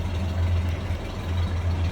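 A 1961 Ford F100 Stepside pickup's engine idles at close range, a steady low rumble with a gentle even pulse and no talk.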